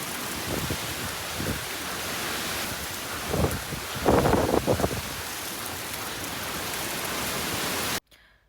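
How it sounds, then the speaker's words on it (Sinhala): Heavy rain falls steadily during Cyclone Fina in Darwin, a dense hiss with a louder gusty surge midway, before cutting off abruptly at the end. "ඉතින් එදා සැනසුරාදා රෑවෙන්න ගොඩක් තීව්‍ර වුණා වැස්ස ඒ කුණාටුව"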